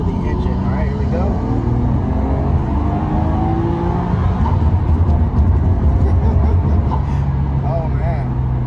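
A Nissan Skyline GT-R R33 engine revs and accelerates loudly, a steady throaty drone rising in pitch, close and continuous throughout.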